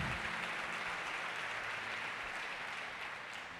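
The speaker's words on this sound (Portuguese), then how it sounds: "Dê uma salva de palmas a Jesus para essa galera abençoada." A church congregation applauds in a dense, even wash of clapping heard from a distance at low volume, fading slightly toward the end.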